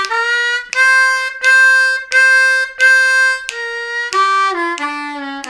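A C harmonica plays a blues lick, a series of loud, bright sustained notes in rhythmic phrases, mostly repeating one pitch before stepping down lower at the end, heard alone.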